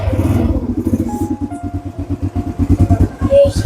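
A motorcycle engine runs close by with a pulsing, throbbing idle and small revs, loud and steady throughout.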